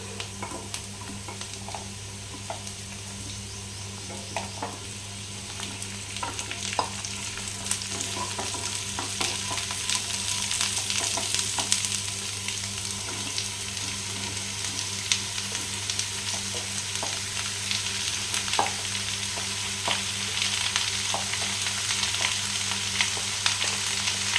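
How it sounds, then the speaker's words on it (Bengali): Pumpkin and potato pieces fry in a pan with a continuous close sizzle, scattered pops and occasional stirring clicks, steady and loud for the whole stretch with no talking. "এরপরে আমি কুমড়োটা আর আলুটা ছেড়ে দেবো"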